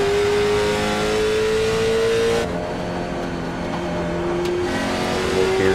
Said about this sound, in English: they're getting out of that throttle a lot coming into these corners here